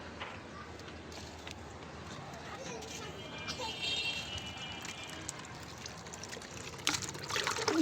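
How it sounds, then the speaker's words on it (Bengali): Water poured onto garden plants, giving a soft, intermittent trickle and splash that builds toward the end, with someone talking over it. "সব কাছে পানি দিয়ে দিতেছি।"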